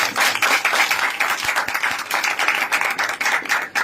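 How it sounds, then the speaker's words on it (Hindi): Church audience clapping to welcome a speaker before a testimony, a dense steady patter of many hands filling the room, fairly loud and continuous with no talk over it. "सो हम तालियों के साथ स्वागत करें।"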